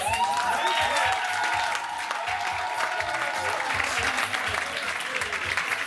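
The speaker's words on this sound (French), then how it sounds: "Mesdames et messieurs, s'il vous plaît, applaudissez pour vous-même." A festival crowd at an intercultural event at a castle in Gouvy claps steadily and loudly, with a sustained tone and low rhythmic music pulsing beneath the applause.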